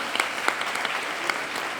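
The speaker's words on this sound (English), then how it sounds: "Big applause for him." Applause from a student audience at a CA students' conference, a steady dense patter of many hands clapping throughout, moderately loud and continuous without talk.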